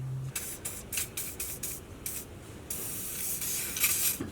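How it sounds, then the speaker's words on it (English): WD-40 lubricant is sprayed onto a car's tie rod in a series of short, close hissing bursts, followed by one longer sustained spray. "we just sprayed this bitch with a bunch of WD-40 and it finally came out"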